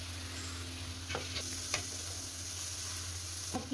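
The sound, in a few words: onions frying with spices for karela curry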